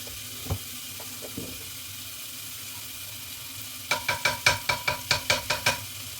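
Pork and mushroom paste stir-frying in a pot for a Thai mok mor het dish, a faint sizzle giving way to a rapid series of about ten loud scraping, sizzling stirs near the microphone.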